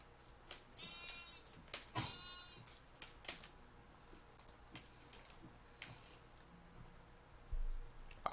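Minecraft sheep bleat in short, wavering calls, two clear bleats early on and fainter ones later, close and loud against quiet game ambience with scattered clicks and a low thump near the end.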